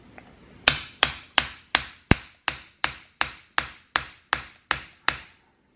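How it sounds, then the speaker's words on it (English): A hammer chops a huge block of cocoa butter, about twelve sharp, evenly spaced blows ringing out roughly every third of a second, close and loud with short decays, and no talking. "There aren't many other ways you can chop a huge block of cocoa butter up."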